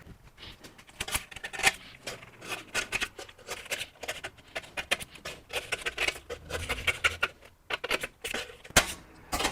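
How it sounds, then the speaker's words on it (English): Quick, crisp snipping of scissors cutting notches into a seat pattern, a run of close, irregular clicks and rustles with no talking. "I'll get a pair of scissors to cut the notches"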